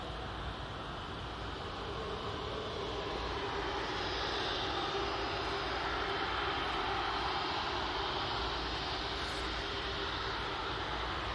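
A Qatar Airways airliner at Manchester Airport produces a steady, loud engine roar and broadband rush that holds at an even level for about eleven seconds with no talk.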